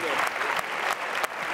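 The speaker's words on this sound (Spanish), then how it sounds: "Un aplauso para Quique, por favor." Steady clapping from a studio audience at a Spanish entertainment show carries on for a moment, dense and near, punctuated by a few louder individual claps, with a voice briefly audible beneath it.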